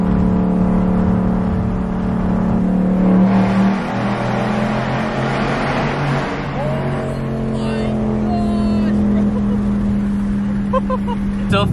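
A Mustang GT drives through a freeway tunnel with the window down, its loud engine drone and road roar echoing steadily and swelling slightly as it accelerates.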